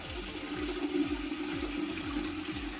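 Cold water pours steadily into a home-brewing pot for a Belgian dubble, a continuous rushing splash with a low gurgling undertone throughout.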